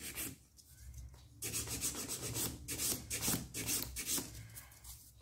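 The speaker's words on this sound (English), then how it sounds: "And we're gonna buff the nail." A fingernail is buffed with a nail buffer during a stained glass nail manicure, giving repeated close scratchy rubbing strokes in bursts with short pauses between them.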